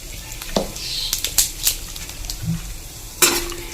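Bay leaves and cumin seeds being stirred in a pan for moong dal, with scattered scraping and light metallic clinks of a spoon against the pan, fairly close and unhurried, with no talking.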